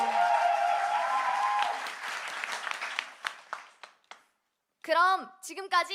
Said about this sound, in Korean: 자, 다시 한번 큰 박수